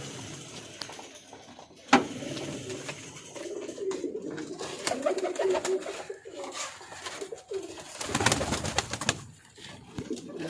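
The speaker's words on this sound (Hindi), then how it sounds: "ये दिखाओ ऊपर कबूतर बैठा हुआ है।" Pigeons kept in a fancy bird setup cooing nearby, repeated soft throaty coos in irregular bursts with a sharp clatter near the start and some flutter and background noise.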